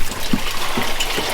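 Seawater gushes and gurgles into a sailing boat through an open seacock, a close, steady watery rush with small bubbling pulses.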